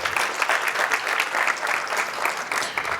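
Sustained applause from a luncheon audience after a candidate for State Delegate is introduced, steady dense clapping throughout with no talk over it.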